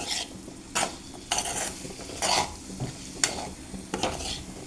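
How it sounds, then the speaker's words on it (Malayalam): Boiled pork stirred and frying in a pan, bursts of scraping and sizzling from a spatula moving the meat, close and fairly loud, with no talking. "ഇത് നമുക്ക് നല്ലപോലെ ഫ്രൈ ചെയ്തെടുക്കാം"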